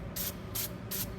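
Black spray paint hisses onto a taped-off, sanded acoustic bass guitar headstock in three short, even bursts separated by brief pauses.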